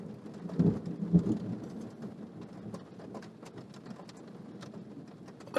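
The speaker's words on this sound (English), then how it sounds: "That's some heavy duty thunder," A heavy thunderstorm with steady rain and loud, deep rumbles of thunder, two strong claps early on, then continuing rainfall and scattered drips, with another burst at the end.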